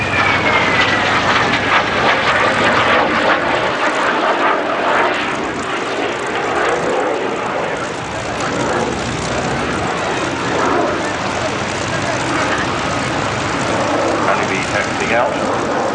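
Fouga jet trainer flying at the Duxford airshow, a steady loud engine roar that holds throughout, with a faint descending whine near the start and talk underneath.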